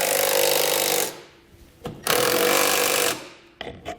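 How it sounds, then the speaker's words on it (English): Impact wrench with a 5/8 socket tightening frame bolts on a hitch rack receiver setup, in two loud rattling bursts of about a second each, close up, with short clicks between them. "We're going to do that with a 5/8 socket."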